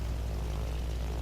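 Carrier aircraft in World of Warships Legends drone overhead with a steady propeller engine rumble, low and continuous throughout with no talk.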